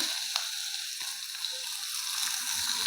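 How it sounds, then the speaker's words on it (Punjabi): Finely chopped onion fries in hot refined oil with whole cumin seeds, giving a steady, close bright sizzle with a few soft spatula clicks. "ਪਿਆਜ਼ ਨੂੰ ਆਪਾਂ ਹਲਕਾ ਜਿਹਾ ਭੁੰਨ ਲਾਂਗੇ"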